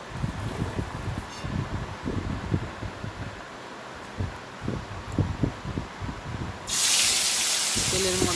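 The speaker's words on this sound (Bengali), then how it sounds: "তেলের মধ্যে মাছগুলো দিয়ে দিচ্ছি।" Hilsa fish pieces rubbed with salt and turmeric dropped into hot oil in a home kitchen, a steady sizzle building to a loud bright frying hiss near the end, with low knocks and handling sounds beneath.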